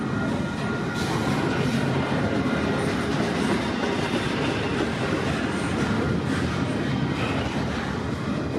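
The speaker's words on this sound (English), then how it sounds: "Symbol on this westbound container train is CPKC 113" The CPKC 113 westbound container train passes close by, a loud continuous rumble of rolling wagons with rhythmic wheel clatter, holding steady throughout.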